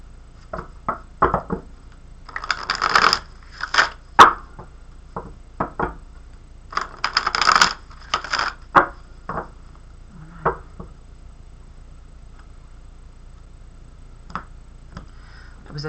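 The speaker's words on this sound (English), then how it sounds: "I'm going to shuffle 3 times" Tarot cards are shuffled by hand three times, giving bursts of crisp riffling and light taps in a quiet room, with pauses between.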